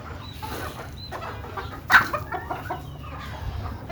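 Chickens on a poultry farm cluck in short, scattered calls close by, with one louder squawk in the middle over a low background hum.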